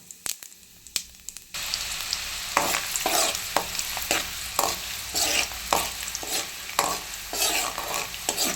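Onion sizzling and frying in hot oil with cumin and mustard seeds, stirred in a pan, a steady crackling hiss broken by repeated scraping stirs, close and fairly loud with no talk.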